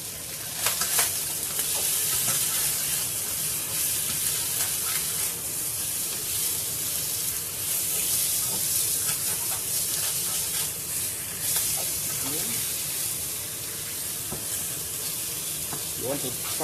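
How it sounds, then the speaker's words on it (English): Fish frying in a pot gives a loud, continuous close-up sizzle and hiss with steam bursts, while occasional stirring scrapes and brief pops break through the steady frying noise. "I'm going to fry out the fish"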